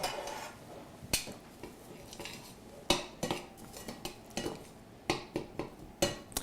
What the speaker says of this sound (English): And then we're just going to mix that together really nicely.